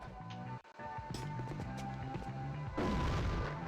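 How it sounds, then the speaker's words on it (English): Grenades go off in the video game The Thing, a run of loud booming blasts with crackling bursts, the last explosion big and sustained. "I am going to attempt to throw some grenades."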